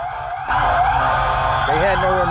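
Police car siren wailing through gridlock traffic, loud and steady after a sharp start, its pitch sweeping up and down over a constant engine and road rumble.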